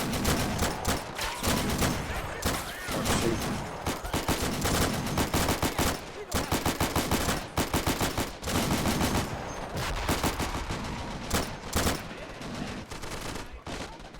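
Sustained automatic gunfire in the toy-soldier battle game Army Men: Plastic Wars, with dense rapid bursts and overlapping volleys firing almost continuously, loud and close, with brief gaps between strings of shots.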